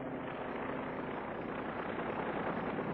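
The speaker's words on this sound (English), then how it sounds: "Re-entry parties are leaving the Rendova now by helicopter." A steady, broad rumble of a helicopter engine and rotors drones on continuously, muffled and even, with no voices.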